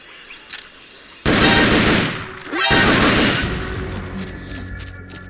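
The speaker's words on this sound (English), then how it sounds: "I heard gunfire!" Gunfire from the stealth action video game Metal Gear Solid: Peace Walker: a loud, dense burst of shots that sets in abruptly, breaks off briefly, then resumes as a sustained roar that fades slowly.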